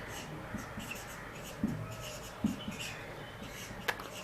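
A chalk or marker writes on a classroom board with soft scratching strokes and a few light taps, faint and close, under a quiet room tone.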